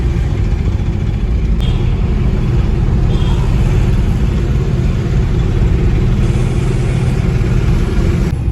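Steady road traffic in Chennai heard from a moving vehicle, a loud, constant engine rumble and road roar with a high steady whine on top, continuous throughout with no talking.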